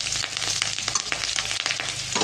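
Chopped garlic and chillies hit hot oil in a pan and fry with a dense, close crackling sizzle. Brief stirring scrapes break through the short burst, with no talking over it.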